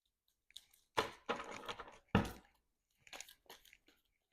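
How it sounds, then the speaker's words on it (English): A deck of playing cards for the Marvel Champions card game is shuffled by hand in a few short papery bursts, with brief riffling pauses between them, fairly close and quiet. "And then we're going to shuffle up our player deck here."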